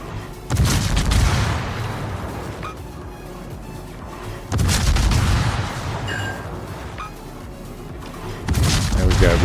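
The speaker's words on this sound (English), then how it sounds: "And firing on our Groningen." Naval ship guns fire in a warship video game, with loud booming blasts at intervals of a few seconds, each followed by a rumbling tail, under a busy background of battle noise.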